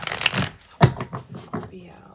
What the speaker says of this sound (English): I'm just going to shuffle one more time and then we'll lay some cards out